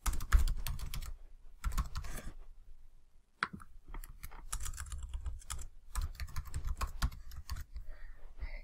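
Typing on a computer keyboard while entering a password into an HTML form, quick bursts of clattering keystrokes separated by short pauses, close and clear with no talk.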